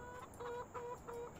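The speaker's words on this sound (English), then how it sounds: "that's where the chickens are" Chickens cluck in the video game Farming Simulator 2017, with soft repeated clucks at a steady rhythm over quiet ambient game sound and no talking.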